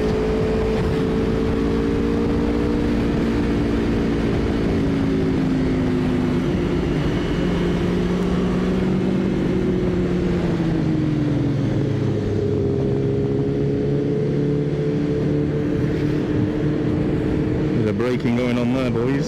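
Ducati motorcycle engine droning continuously at speed around Donington Park circuit on a track day, pitch rising and falling with gear changes under heavy wind rush, with a rider talking over it.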